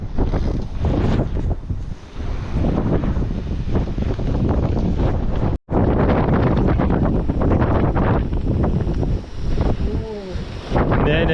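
Strong wind buffets the microphone on the coast of Holyhead Mountain, Anglesey, roaring loud and steady with gusty swells and one brief dropout, while people talk briefly partway through.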